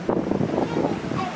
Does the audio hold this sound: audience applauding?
no